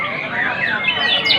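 A white-rumped shama sings at a bird contest, its bright chirping and whistled phrases rising over a steady murmur of crowd chatter throughout.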